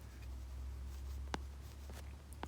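Chalk or marker writing a definition on a classroom board, a few faint brief scratches and taps against a quiet room hum, no talking.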